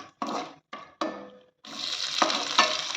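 Onion added to a pan of frying cashews and curry leaves gives a few short bursts of sizzle, then a louder, continuous crackling fry with scraping stirs, close by.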